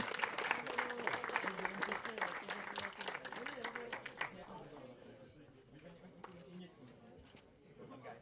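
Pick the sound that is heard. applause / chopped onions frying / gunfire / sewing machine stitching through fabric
applause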